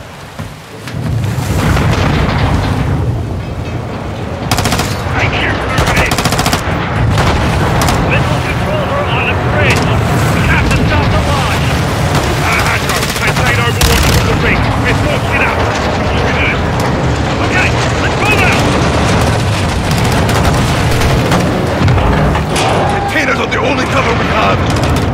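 Call of Duty: Modern Warfare 2 combat roars loudly and continuously, with heavy explosions and gunfire rumbling throughout under shouted voices.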